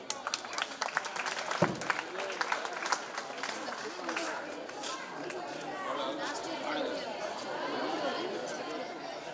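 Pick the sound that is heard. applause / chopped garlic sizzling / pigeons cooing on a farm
applause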